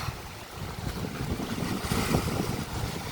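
Ocean waves wash onto Rambak Beach on Bangka island in a continuous, loud roar of surf mixed with heavy gusting wind buffeting the microphone, with no voices.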